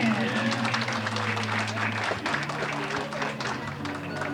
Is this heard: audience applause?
yes